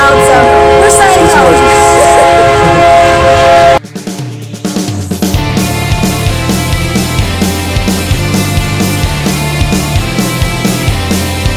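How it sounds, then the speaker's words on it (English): A loud train rumbles past with steady clattering and a rhythmic pulse from the wheels, beginning after a stretch of loud mixed noise with brief speech. "there's a train coming, it's going to be loud"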